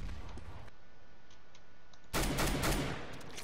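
Gunfire in Counter-Strike: Global Offensive, a faint tick or two early on followed by a sudden loud burst of rapid shots in the final second and a half.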